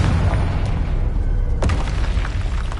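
A Confringo fire spell explosion in Hogwarts Legacy lands as a deep, loud boom with a sharp burst, over a dense, continuous rumble of game sound.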